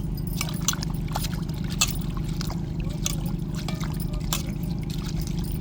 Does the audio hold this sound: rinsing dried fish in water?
yes